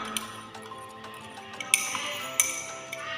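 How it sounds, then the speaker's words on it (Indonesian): A spoon clinks against a glass container while soap mixture is stirred, giving a few light, sharp pings over a soft steady background, close and without speech. "sekarang kita aduk sampai larut."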